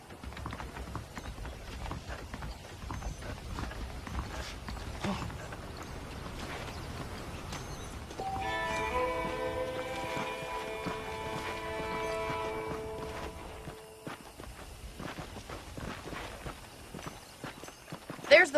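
Horse hooves clip-clop steadily in Red Dead Redemption, a continuous trotting rhythm close by for the whole stretch, with a voice talking over it and a tonal music swell partway through.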